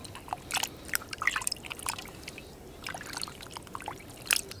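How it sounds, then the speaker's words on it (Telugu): A kilo of raw chicken is rinsed by hand in water on a farm, giving intermittent close splashes and trickles in short bursts, with no talking. "ఇది కేజీ చికెన్ అండి దీన్ని శుభ్రంగా కడుక్కొని పక్కన పెట్టుకుందాం"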